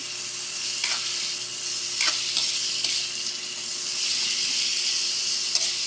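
Papaitan sautéing in a pan with ginger and onion, a dense continuous hiss of sizzling oil with occasional stirring clinks and scrapes, close and fairly loud, with no voices.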